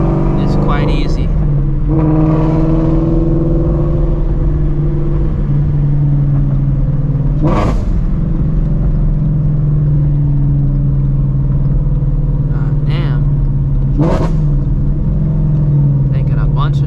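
A Shelby GT350 Mustang engine idles with a loud, steady low rumble, its pitch rising and falling in a few short revs; vehicle noise holds throughout with no clear speech.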